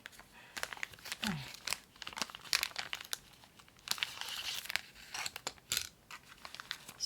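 Plastic packaging bag crinkling and crumpling in bursts while sunglasses are unboxed, close and fairly quiet, with rustles and a brief tearing sound, no speech.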